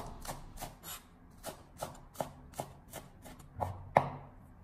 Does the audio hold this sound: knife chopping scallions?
yes